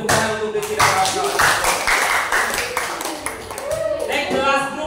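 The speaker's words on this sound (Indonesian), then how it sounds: "beri tepuk tangan untuk Rizky dan kawan-kawan" A classroom of students claps for a group that has just presented, a brisk wash of applause with a teacher's voice talking over it.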